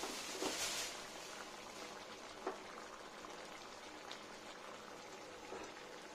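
Curry simmering in a pot, a quiet continuous bubbling with soft pops and occasional louder plops, heard close but faint.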